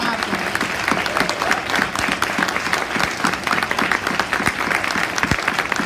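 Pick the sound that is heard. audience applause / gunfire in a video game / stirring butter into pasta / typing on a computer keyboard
audience applause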